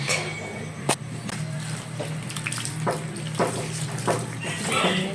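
Water is poured over newly planted plants in a garden, a steady splashing and trickling stream with a few louder splashes and clicks, close by and without speech.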